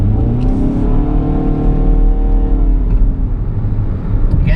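A 2013 Jeep Compass engine revving hard under full acceleration from inside the cabin, a loud, steady droning rise in pitch that holds throughout.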